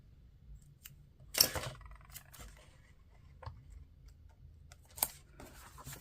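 Scissors snipping around a paper daisy cutout, a few quiet, sharp cuts and rustles spaced apart in a still room, with the clearest snips early and near the end.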